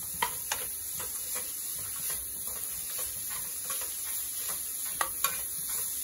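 Grated coconut cooks with jaggery syrup in a pan, a faint quiet sizzle with scattered light ticks and scraping taps of a spoon, over a constant high hum.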